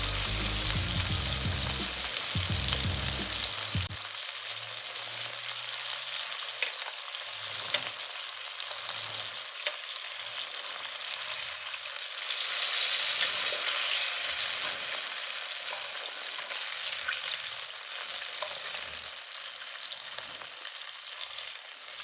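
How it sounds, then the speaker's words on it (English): Shrimp for honey walnut shrimp fry in hot oil with a steady, dense sizzle. The sound starts loud and full, then settles into a softer continuous crackle with small pops, and no one speaks. "After you're done frying your shrimp for the second time"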